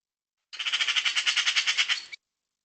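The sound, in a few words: bird call sounding like wooden castanets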